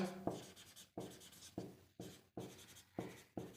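Pen or pencil writing out a maths equation by hand on paper, a close, quiet run of scratchy strokes broken into short bursts with brief pauses between them, no voices.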